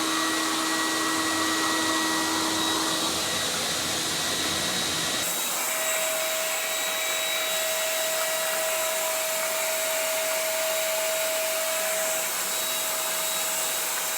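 A battery-powered CECOR Sump Shark SD15 pump runs steadily while drawing water from a tank, a loud, close, continuous motor whine whose pitch drops partway through as the load changes.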